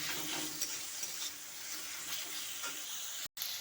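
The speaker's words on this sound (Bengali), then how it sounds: "এরকম ভালোভাবে মশলাটাকে কষিয়ে নিব, ভালোভাবে কষতে হবে সময় ধরে" Spice masala for ghugni frying in a pan while being stirred, a soft continuous sizzle with faint scraping, heard close and fairly quiet.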